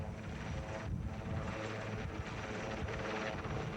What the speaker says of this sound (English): it was a scramble to get on board the waiting helicopter